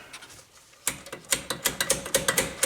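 A ratchet wrench works a brake caliper bolt loose on a Volvo XC90, giving a run of quick, close clicks in short bursts after a brief quiet start, with no talking.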